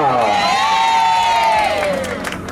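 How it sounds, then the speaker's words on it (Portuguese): A lively crowd at a street celebration in Tatuapé cheers and shouts loudly for Luana, with whoops and high voices ringing out over clapping, the noise swelling and then easing slightly toward the end. "Palmas pra Luana!"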